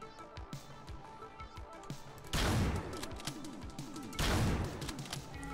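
Sniper rifle shots in the top-down video game Hotline Miami 2 ring out as two loud, sharp blasts a couple of seconds apart, over busy, pulsing game music and smaller clicks.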